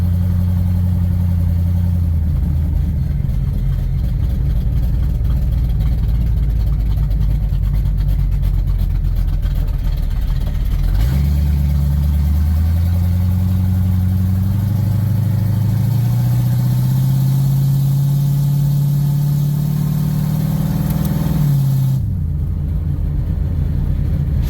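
A Ford LTD with a loose exhaust bolted to shorty headers idles with a loud, steady low rumble and rattle, its pitch shifting as the engine revs partway through before settling.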